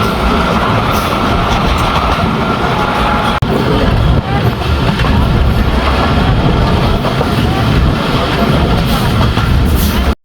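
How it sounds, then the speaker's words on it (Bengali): Riding inside the moving Bhatiapara–Rajbari mail train, a loud continuous rumble and rattle of the carriage fills the whole stretch, with a narrator talking over it. "আমাদের ভাটিয়াপাড়া রাজবাড়ির মেইলটি এখন বনুমালিপুর স্টেশনে প্রবেশ করলো"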